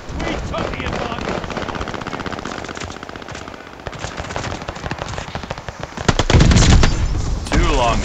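An MP-40 submachine gun in Call of Duty: Vanguard fires loud, rapid automatic bursts almost continuously, with heavier blasts toward the end and a voice talking over the gunfire.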